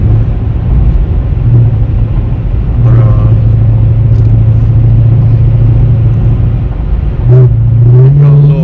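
Modified 2016 Dodge Charger accelerating hard, a loud close engine roar heard from inside with a rising pitch as revs climb near the end.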